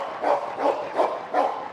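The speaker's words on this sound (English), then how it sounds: "So as you can see, on command, the dog lights up." A protection-trained Dutch Shepherd barks on command, four deep, loud barks in an even rhythm about a third of a second apart, close by and with no talk over them.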